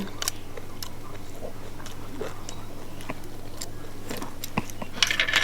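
Close-up eating of Thai gaeng om curry with mixed vegetables, with repeated wet bites, crunches and chewing that come at an irregular pace over a low background hum.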